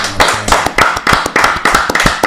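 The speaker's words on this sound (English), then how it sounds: "we just want to clap it up for that" A few people on a podcast clap together close to the mic in loud, slightly uneven bursts of sharp hand claps, repeating in quick groups for about two seconds.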